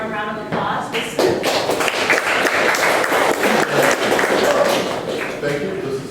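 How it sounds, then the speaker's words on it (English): An audience at a Million Cups startup pitch event applauds a presenter with dense, sustained clapping that fills the room evenly for several seconds. "Please give him a warm round of applause."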